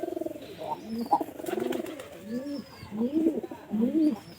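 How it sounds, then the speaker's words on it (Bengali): A pigeon coos close by in a repeating series of soft, throaty, rolling calls, with a faint second voice briefly overlapping in the middle. "আমি এই কবুতরটা ছেড়ে দিলাম"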